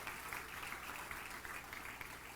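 Applause from a church congregation offered to the Lord during a Spanish-language service, a steady wash of many hands clapping for the full stretch at moderate distance, with no voices over it.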